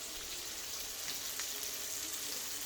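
Breakfast food sizzling steadily in a frying pan, a soft continuous crackle and hiss at moderate distance with no voices.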